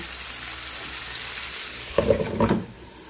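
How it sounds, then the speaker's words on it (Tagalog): String beans (sitaw) frying in a covered pan give a steady soft sizzle, then a louder burst of crackling and spattering near the end before it settles back down. "Ito yung technique para hindi titigas ang sitaw natin. Igala natin sa pagprito."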